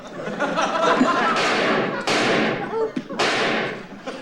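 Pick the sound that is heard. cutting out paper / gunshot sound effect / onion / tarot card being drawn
gunshot sound effect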